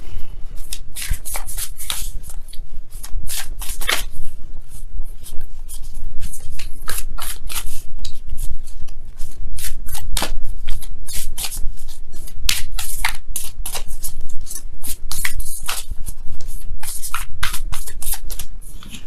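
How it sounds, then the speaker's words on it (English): A tarot deck is shuffled vigorously by hand, close and loud, with continuous rapid riffling and slapping of cards throughout and no talking. "let me go ahead and really shuffle."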